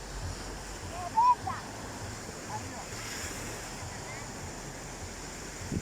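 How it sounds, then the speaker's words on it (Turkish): Steady wash of sea waves rolling in on the beach at Varadero, Cuba, a continuous soft roar with wind noise, one brief faint sound rising near the start. "Çok güzel deniz sesi muhtemelen güzel dalgalı şekilde geliyordur size."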